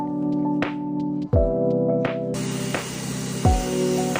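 A pressurised water spray hisses steadily against a car's exterior during a wash rinse, with a motor hum beneath and several clunks and shifts in the stream, close and loud.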